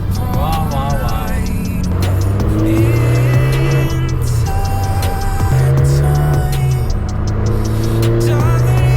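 An Abarth 595 Turismo's 165-horsepower turbo engine revs hard in repeated rising and falling bursts, loud and close, with pops and crackles from the exhaust.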